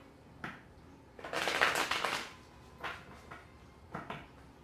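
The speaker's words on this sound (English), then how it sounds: "1 more shuffle, and we will get the show on the road." Tarot cards shuffled by hand in a quiet room, a short burst of riffling and rustling followed by two brief, lighter flicks of the deck; close and soft with no talking.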